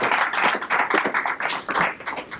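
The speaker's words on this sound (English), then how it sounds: "How about a round of applause for Foley and Sino?" Applause from the audience at a Chicago CEO roundtable presentation, a dense, steady patter of many hands clapping, moderately close and continuous.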